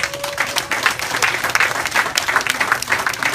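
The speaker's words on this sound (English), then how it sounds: "So let's give them a round of applause." A church congregation at a pastor's anniversary service gives a round of applause, with individual claps audible in an uneven, lively patter that swells and dips across the room.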